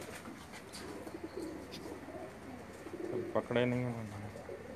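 Pakistani pigeons coo at close range on a rooftop, a soft rolling coo rising near the end over a murmur of background sounds, while someone speaks briefly in Hindi.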